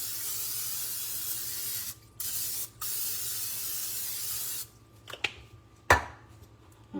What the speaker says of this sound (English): With some vegetable cooking spray.